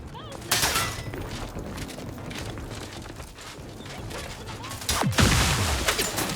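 Wrist-mounted weapon fired in the video game The Outer Worlds 2, a burst of gunfire-like blasts with mechanical clicks, loud and close, with a second heavy burst near the end under game ambience.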